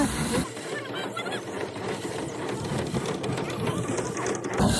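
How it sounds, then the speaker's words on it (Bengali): A foot-pedal rice threshing machine worked by village farmers makes a dense, continuous whirring rattle as paddy is beaten against it, steady and close throughout. "আমাদের গ্রামের চাষিরা দেখো কত কষ্ট করে পা দিয়ে চাপ দিয়ে ধান ঝাড়ছে"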